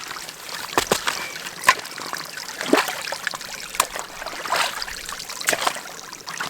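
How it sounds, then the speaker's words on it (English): A small creek trickles and splashes nearby in the outdoors beside a hiking trail, a continuous gentle flow punctuated by brief sharper splashes, close and moderately loud with no talking. "this is where I'm gonna get some water, right here in this creek."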